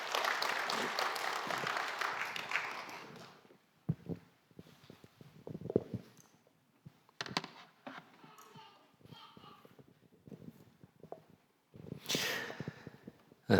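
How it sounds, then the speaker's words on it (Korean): A church congregation claps together at a training service, a dense burst of applause for the first few seconds that fades out, followed by scattered thumps, shuffling and a short clatter near the end. "우리 다 같이 하나님께 영광의 박수 한번 돌려드리겠습니다."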